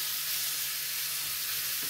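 A steady, close sizzle of sausage, lightly pre-fried in an air fryer, frying in a hot pan, with a constant hiss throughout and no voices.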